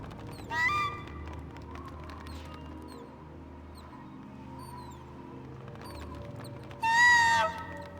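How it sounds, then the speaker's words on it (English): Bird in Myst III: Exile giving two loud squawking calls a few seconds apart, with scattered chirps and a low ambient hum filling the gaps between them. "Yes, bird, you make noises."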